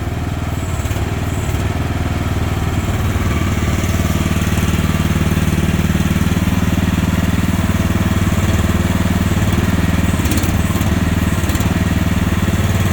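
A mini trackhoe excavator's engine runs steadily and loudly throughout as the machine slews a full 360 on its pivot without moving its tracks, a continuous mechanical drone close by with no talking.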